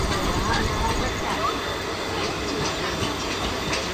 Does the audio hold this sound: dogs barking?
no